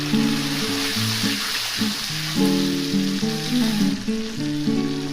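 Tomato paste sizzling in a hot pan, a steady crackling hiss running throughout at moderate loudness, with a melodic tonal background playing alongside.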